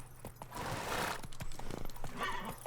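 A horse whinnies in The Witcher 3: Wild Hunt, Blood and Wine expansion, a close, loud neigh mixed with clip-clopping hooves during a short ride.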